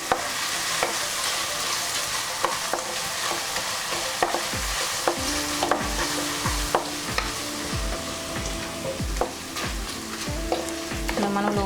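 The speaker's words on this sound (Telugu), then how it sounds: "ఇలా మనం లో ఫ్లేమ్ మీద ఫ్రై చేసుకోవాలి దీన్ని." A paste of ginger, green chillies and mustard fries on a low flame, giving a continuous soft sizzle while a spoon repeatedly scrapes and taps against the pan in an uneven rhythm, up close with no talking.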